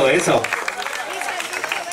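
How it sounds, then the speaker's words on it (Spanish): Applause for the jury at a family gathering's cultural event: a burst of clapping that starts strong and then tapers into scattered, lighter claps, with a voice speaking over it. "el aplauso bien grande para los señores del jurado"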